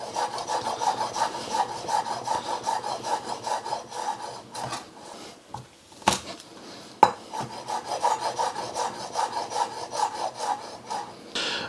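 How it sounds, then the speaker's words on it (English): Two garlic cloves pounded then finely chopped with a knife on a board, a run of quick rasping cuts broken by a few sharp thuds, close and fairly quiet with no talking. "So I've got 2 cloves of garlic. I'm going to give it a quick pound, and then I'm just going to chop it finely."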